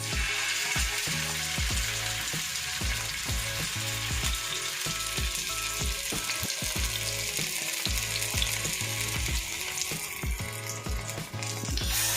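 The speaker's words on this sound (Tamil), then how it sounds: "நல்லா சூடு ஏறினதுக்கப்புறமா நம்ம இந்த ஃபிஷ்ஷை அழகாக இப்படியே போட்டு எடுக்க வேண்டியது தான்." Salmon fish fries in hot oil with a loud, steady sizzle, crackling throughout, mixed with repeated rhythmic scraping or clicking knocks of a utensil against the pan, close up and without talk.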